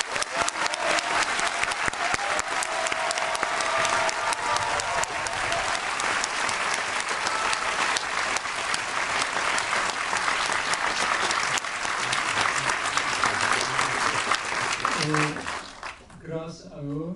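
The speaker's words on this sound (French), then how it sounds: "Est-ce que je vous souhaite un très fort applaudissement," Sustained loud applause from a festival closing-ceremony audience honoring the volunteers, dense and continuous for most of the stretch before tapering off near the end, when a voice briefly speaks.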